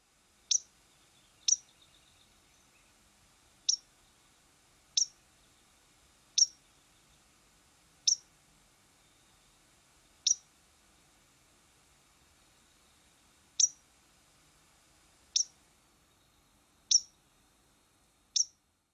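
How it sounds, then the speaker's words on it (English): Sharp, high single chip notes from a white-crowned sparrow repeat at irregular intervals, about a dozen in all, clear against a quiet background. "The most frequently heard include a sharp pink, lower pitched than the white-throated sparrow's call."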